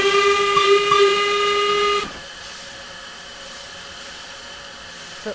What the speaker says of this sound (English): Then you got this whistle.